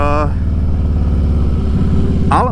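A Harley-Davidson Heritage Classic motorcycle idles nearby with a smooth, steady low engine rumble, and someone talks over it throughout.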